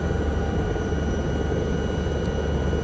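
Helicopter flying in Microsoft Flight Simulator, an SA315B Lama over Cornish countryside, giving a steady, loud rotor and engine drone that holds constant throughout with no talk.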